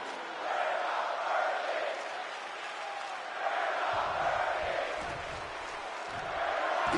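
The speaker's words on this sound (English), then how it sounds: "Just listen to this crowd. Every one of them is on their feet." Simulated wrestling arena crowd in WWE 2K26 roaring and cheering steadily throughout, a dense sustained roar that swells in places with louder bursts.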